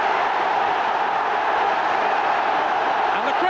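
A dense, steady roar from a packed football crowd at Ayresome Park celebrating Ernie Slaven's goal for Middlesbrough against Villa in February 1990. The noise fills the whole moment without a break and sounds rough and distant, like an old broadcast.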